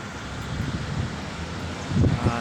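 Strong wind buffets the microphone in a steady rumbling roar, with heavier gusts surging near the end.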